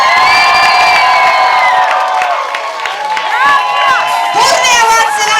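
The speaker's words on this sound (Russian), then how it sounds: "Бурные овации нашему режиссеру." A children's audience cheers, shouts and whoops in a loud ovation for a theatre director after a show at a children's camp, with excited high voices and some clapping filling the whole stretch.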